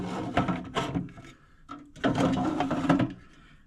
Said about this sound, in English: it has 3 drawers that open almost fully